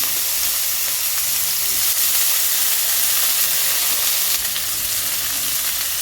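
Chopped onion and tomato fry in hot oil with a dense, continuous sizzle, loud and close, holding steady throughout with no voices.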